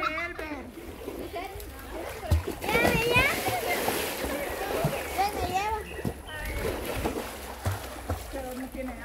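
Water splashes into an outdoor swimming pool in a steady, close wash that runs the whole time, while children and adults talk and call out over it.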